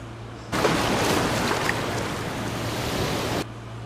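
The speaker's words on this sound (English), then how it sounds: "Now you just need to find the underwater audio that you want to add." An underwater ambience effect plays as a dense, steady rushing wash like muffled water, starting abruptly, holding for about three seconds, then cutting off.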